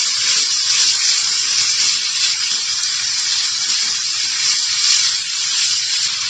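Marinated beef with garlic sizzles in a pan as it is stirred, giving a steady, close, bright hiss that holds evenly throughout with only small fluctuations.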